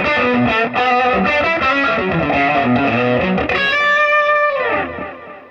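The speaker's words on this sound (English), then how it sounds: "So I have the compressor, the overdrive, the, what is this? The chorus, we have the delay and the reverb," Electric guitar played through a full pedal chain of compressor, overdrive, chorus, delay and reverb, giving a loud, driven, shimmering tone with chords and single notes that ring out and trail off into echoing decay at the end.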